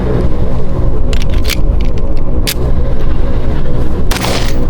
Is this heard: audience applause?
no